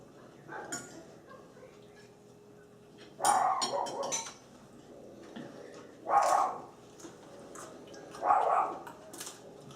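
A dog barking indoors, three or four separate bark bursts spaced a few seconds apart at moderate distance, with faint kitchen clatter between them.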